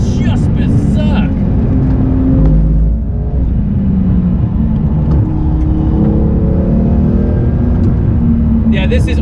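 A Porsche GT2 RS sports car driven hard on a track, its engine roaring loudly and continuously from inside the cabin with rising and falling pitch, and a person talking over it.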